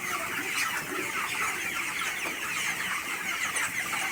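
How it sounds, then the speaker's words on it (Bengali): Chickens on a poultry farm crowd toward someone bringing feed, with dense, steady clucking and squawking from many birds filling the space at close range, and no talk. "দেখুন আমার দিকে কিভাবে মুরগিগুলো অগ্রসর হইতেছে"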